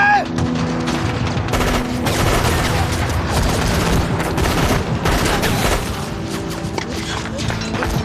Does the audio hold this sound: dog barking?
no